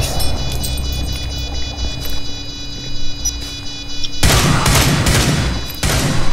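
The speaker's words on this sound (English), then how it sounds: "careful, the recruit shooting over your head" Rapid gunfire rattles in Rainbow Six Siege, steady ticking shots under a faint hum at first, then louder, denser bursts of fire close by in the last couple of seconds.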